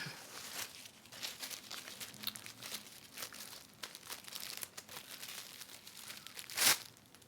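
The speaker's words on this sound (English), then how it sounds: "So the flower itself is in this little plastic bag and then you have to unwrap it" A flower for red and white wedding stage decorations comes out of a small plastic bag, with close, continuous crinkling and rustling of plastic and a sharp tearing burst near the end, no voices.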